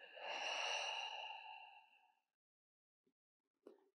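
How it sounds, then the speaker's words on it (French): A long, slow breath out through the mouth during a vinyasa yoga session, a soft airy sigh lasting about two seconds, followed by silence and a faint click and short breath. "Expirez par la bouche."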